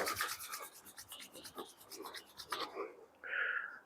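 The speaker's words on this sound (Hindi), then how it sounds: "हथेलियों को रब करें" Palms rub together during a yoga warm-up, giving a soft, close, rhythmic swishing of skin on skin that repeats quickly, followed by a brief louder rub near the end. It is quiet and without talk.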